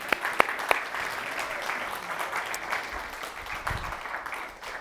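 Steady applause from a church audience, a dense patter of clapping that holds at an even level throughout, with a few sharper claps near the start.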